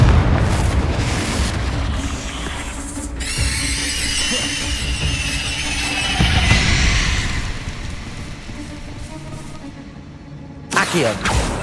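Fiery Confringo spell blasts in Hogwarts Legacy, set in a crypt with an altar and bones: booming explosive bursts with crackling, sizzling trails, loud and dense, with a sharp fresh blast near the end.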